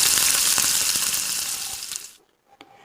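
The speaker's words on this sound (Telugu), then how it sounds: "బాగా రెడ్గా వచ్చేదాకా కాల్చుకుందాము" Spiral-cut spring potatoes fry in hot oil with a loud, steady sizzle that cuts off abruptly near the end, leaving a near-silent pause and one faint clink.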